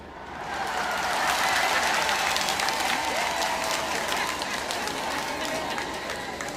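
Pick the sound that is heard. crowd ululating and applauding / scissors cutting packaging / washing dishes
crowd ululating and applauding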